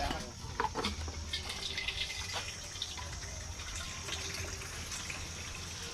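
Water gushes steadily from a water tank outlet into a vessel, a continuous splashing fill with no talking.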